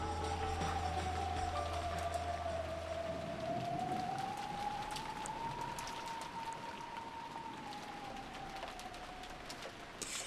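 Pouring rain in the visual novel game Umineko, a dense steady hiss of rainfall running throughout, faint and continuous, with a sustained wavering tone layered over it.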